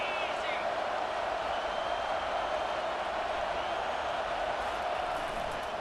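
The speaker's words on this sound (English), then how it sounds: "This crowd knows this defense needs them right now." A football video game's stadium crowd roars in a steady, dense wall of cheering that holds at an even loudness throughout, with a commentator talking over it.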